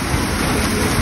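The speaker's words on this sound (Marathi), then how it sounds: "पाऊस पण असा आहे ना, खोटारडा आहे ना, थोडं करायला बघा आता. लय जोराचा आला, वाढला फार." Heavy rain pours down at night in a steady, dense roar that fills the whole short stretch without a break, loud and close.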